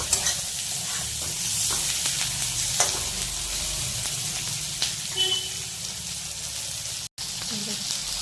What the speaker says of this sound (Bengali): এই টমেটোটা দিলাম দিয়ে একটু ভাজা করে নিচ্ছি